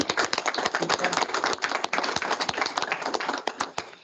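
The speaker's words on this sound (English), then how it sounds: "So first we go to one round of applause to" A round of applause after a seminar talk: brisk, dense clapping from a small audience that runs steadily for about four seconds with no talk over it.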